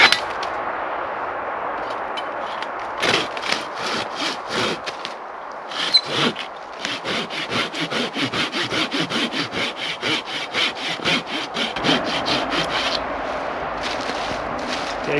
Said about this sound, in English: The saw is doing amazing now. I'm gonna cut a hinge on the back.